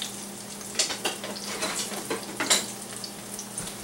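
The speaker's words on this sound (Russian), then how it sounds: "И вот она у нас сейчас жарится потихонечку." Filling for simple onion and egg pies fries gently in a pan, a soft steady sizzle with scattered light pops and crackles, quiet and close.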